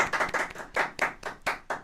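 One person claps their hands in a quick uneven series of about eight sharp, close claps, each with a brief ringing tail.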